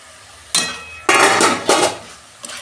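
While a prawn and banana blossom dish cooks, a spoon clanks against a metal pan in several sharp scraping bursts as sugar is added, close and clear without talk.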